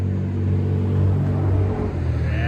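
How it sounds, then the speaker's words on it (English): A car drives down a street with a close, steady engine rumble carrying clear humming tones that rise slightly as it passes, no other sounds around it. "And out of no cars coming down the street, here comes one."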